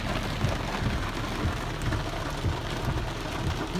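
Heavy, steady downpour during Hurricane Harvey in August 2017, a dense continuous hiss of rain on surfaces with low rumbling underneath, loud and close throughout with no voices.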